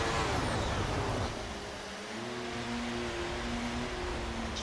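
Racing car engine in a sim racing game at Zandvoort: a steady, loud high-pitched whine with gear-like pitch sweeps, held continuously with no talk over it.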